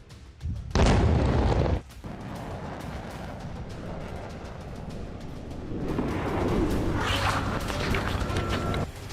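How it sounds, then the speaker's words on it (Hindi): A Russian missile strike in Ukraine: one loud, close blast bursts out, followed by lingering rumble and a rising, heavy roar of distant destruction, with no talking. "यूक्रेन पर रूस मिसाइल दाग रहा है।"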